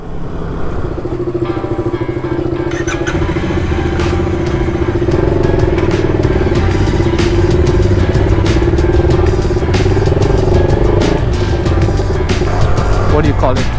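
KTM Duke 200 (BS3) motorcycle ridden through a city at night, its exhaust giving a loud, close, steady engine drone that holds a near-constant pitch with slight rises, and faint clatter on top.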